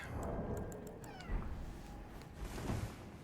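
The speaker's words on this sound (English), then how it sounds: "What's the matter, kitty?" A house cat meows close by in a few drawn-out cries, with some faint background sounds and no talking.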